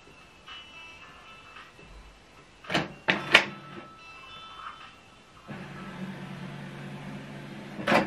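A Canon Pixma TS3150 inkjet printer prints a document, with faint mechanical whirring, a few sharp clicks and clunks mid-way, then a steadier low feed hum toward the end.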